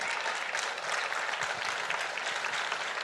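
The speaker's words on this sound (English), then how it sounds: "And you can clap for that." A large audience at a semiconductor fab equipment ceremony breaks into dense, continuous applause that fills the space evenly from start to finish, loud and sustained with no speech over it.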